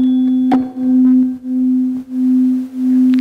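Two slightly mistuned flutes hold one steady tone together, and its loudness swells and dips in a slow, regular wah-wah beat, about four pulses, loud and alone.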